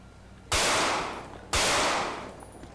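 Two loud gunshots ring out about a second apart in GTA V roleplay, each a sharp blast with a lingering decaying tail, close and unaccompanied by talk.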